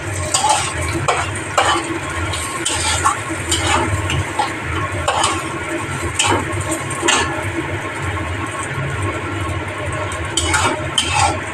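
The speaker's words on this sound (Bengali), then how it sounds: "হালকা দিয়ে একটু মুগ ডালটা ভেজে নিচ্ছি" Mung dal is dry-roasted in a pan with a steady, close scrape and rustle of stirring. Soft clinks of a utensil against the pan repeat throughout, with a faint sizzle underneath.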